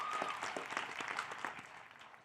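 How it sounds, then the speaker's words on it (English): Graduation audience applauding at a college commencement ceremony, a steady wash of many hands clapping that fills the hall and fades slightly toward the end. "Round of applause to all of you guys."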